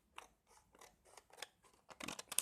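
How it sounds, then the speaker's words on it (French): Scissors snip through paper to cut out triangles for a star card, making a quick series of about seven short crisp cuts, close and quiet, with no talk. "on va découper nos triangles"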